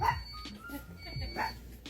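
A dog inside a Walmart store gives a short whimpering bark amid ambient store noise and nearby voices, moderately close and brief.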